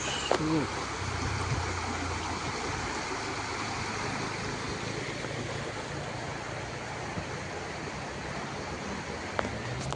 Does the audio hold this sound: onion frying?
no